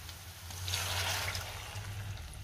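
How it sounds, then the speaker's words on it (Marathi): Water pours from a bowl into gram flour batter, a short soft gush that swells and fades over a low background hum. "आता मी पाणी घालते"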